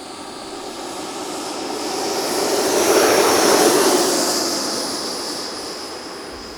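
FMS Avanti 90mm EDF model jet flying past, its ducted fan giving a rushing, whining roar that swells as it nears, peaks overhead, then fades away, with no voices.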